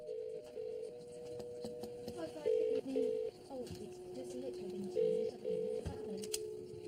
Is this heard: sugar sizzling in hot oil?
no